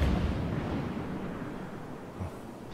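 The Bismarck battleship's main guns fire in World of Warships, a heavy, rumbling boom that decays into a long, dull roar.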